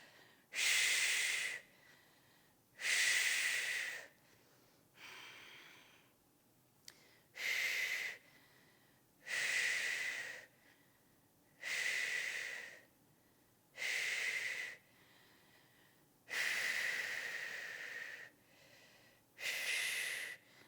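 Loud, breathy exhales and inhales during a prenatal lower-body workout, eight or nine airy bursts of a couple of seconds each at a steady, unhurried pace, with quiet gaps between them and no talk.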